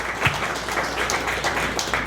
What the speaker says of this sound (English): please give a round of applause to Dean